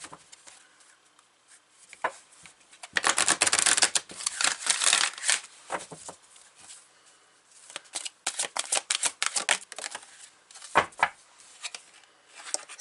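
Soul Coaching Oracle cards are shuffled by hand in quick papery bursts of riffling and sliding, close and crisp, with brief pauses between rounds.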